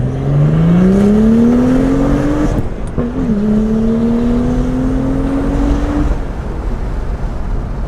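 A tuned BMW 135i with stock exhaust apart from a downpipe pulls hard, engine note climbing steadily through one gear, a brief break at the shift, then rising again, loud and close from inside the car.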